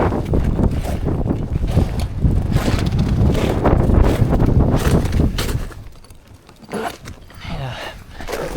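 Gusty wind of an Alaskan winter storm roars and buffets close by in loud, irregular surges, easing to a quieter lull near the end.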